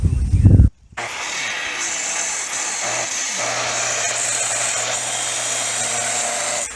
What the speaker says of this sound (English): now I'm going to cut this angle bracket over here